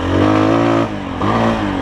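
A Tekken 250 motorcycle engine revs loudly up close, two throttle blips with a brief dip between them and a buzzy, harmonic exhaust note.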